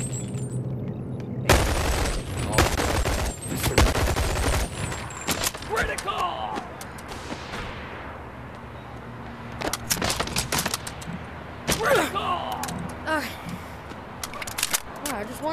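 Gunfire in the VR game BONELAB, several sharp bursts of shots and clattering impacts spread across the stretch, with someone talking in between.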